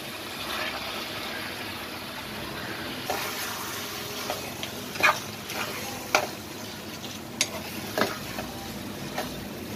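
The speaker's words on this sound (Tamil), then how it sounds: "ஊற வச்ச சிக்கனை போட்டுக்கோங்க" Marinated chicken sizzles steadily in a pan for Ambur biryani, with occasional sharp scrapes and clinks of a spoon stirring it; a low background hum persists throughout.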